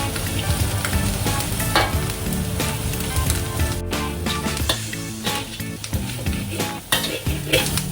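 Shallots sizzle in hot oil in a pan, a dense, steady frying crackle with occasional stirring and the clink of a utensil against the pan, loud and close throughout.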